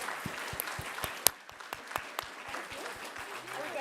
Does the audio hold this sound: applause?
yes